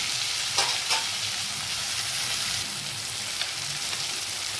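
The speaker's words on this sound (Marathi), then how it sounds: "त्याच्यात आपण सगळं सॉसेस जे घेतले आपण ते टाकून घेणार आहोत।" Vegetables for paneer chilli fry loudly in a pan as sauces go in, giving a dense continuous sizzle with a couple of brief stirring clatters near the start.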